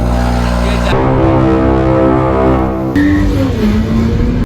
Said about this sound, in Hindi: ये जी आपको गाड़ी का जरा मैं कोल स्टार्ट सुनाता हूँ।